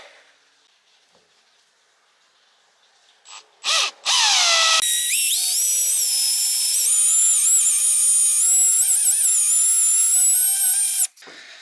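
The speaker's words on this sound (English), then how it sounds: "I am using a wood drill bit on metal" A few short bursts of a power drill starting up, then a long continuous high-pitched whine as a wood drill bit grinds through thin metal, stopping abruptly.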